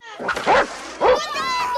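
Two short, close barks from a fierce dog, the second following half a second after the first, with a tonal whine trailing after them.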